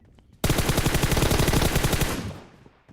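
Sustained burst of rapid automatic gunfire in PUBG Mobile, loud and close, with dense repeating shots rattling for about two seconds before trailing off.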